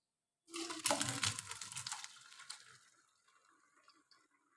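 Cooked rice for degi mutanjan tipped into a colander: a sudden close rush of draining water that tapers over a couple of seconds into soft trickles and drips, with no voices.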